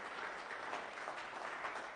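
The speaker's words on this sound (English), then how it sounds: "we welcome Nate and Kate with a round of applause" Steady, evenly spread applause from a church congregation welcoming a couple at a Sunday worship service, fairly quiet and continuous throughout.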